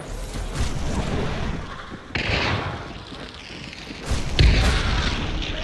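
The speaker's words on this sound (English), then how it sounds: "Bomb lands." A bomb lands and explodes in a video game, a deep booming blast near the end following a steady rumble of battle noise and earlier thuds, loud and close.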